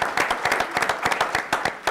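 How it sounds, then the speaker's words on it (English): Audience applause at a political candidates' event, with individual claps rapping out in a quick, uneven rhythm, loud and close throughout. "Give her a round of applause."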